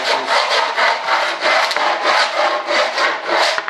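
Coarse 50 grit sandpaper worked hard along the edges of a mold plug for an RC F-105 Thunderchief jet, loud rhythmic rasping strokes repeating about twice per second, close up and without talk.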